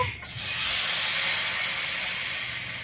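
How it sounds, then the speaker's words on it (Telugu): Uttapam batter hitting a hot pan, with a loud, steady hiss and sizzle that bursts in suddenly and holds close and strong. "ఇప్పుడు ఊతప్పం వేస్తున్నాను"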